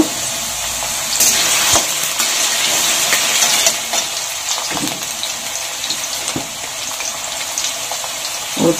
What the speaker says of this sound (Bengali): এখন এগুলোকে ভেজে নিব।